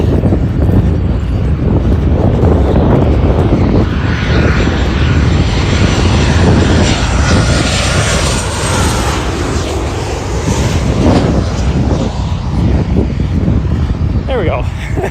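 Steady broadband roar of airplanes flying overhead at night while parked, loud and continuous, with some wind buffeting and talk mixed in.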